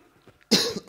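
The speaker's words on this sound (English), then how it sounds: "Sorry for the coughing." A sick man gives a single sharp, loud cough close to the microphone, ending with a short throat-clearing burst after a quiet lead-in.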